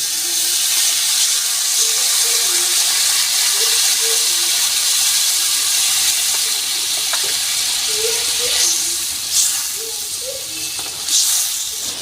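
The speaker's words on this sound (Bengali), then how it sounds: "এবার দিয়ে দিচ্ছি আমি জল" Water pours into a hot pan of small bata fish cooking with panch phoron, giving a loud, steady hiss and sizzle with a few brief bubbling pops throughout.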